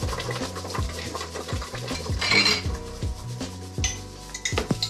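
Sugar is poured slowly into boiling raspberry and peach jam in a pot, with loud, close scraping, clinking and rustling against the pot over a bubbling background and no talking.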